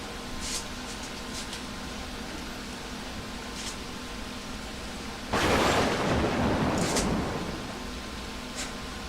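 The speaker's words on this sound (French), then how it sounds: "Celui qui est surpris par le tonnerre." A thunderclap rumbles in during rain, a sudden loud broad roar lasting a few seconds over a steady background hiss, with faint scattered ticks of rain around it.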